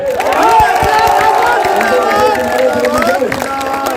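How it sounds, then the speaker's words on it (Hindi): A big election-rally crowd at Kadwa in Bihar cheers and claps for Chirag Paswan, a dense, loud roar of many voices and hand claps that holds steady and fills the whole stretch, with shouts rising above the babble. "ताली बजाते रहिए।"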